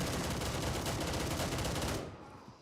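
Rapid, dense bursts of automatic gunfire in the video game Gray Zone Warfare rattle loudly without pause for about two seconds, then cut off abruptly.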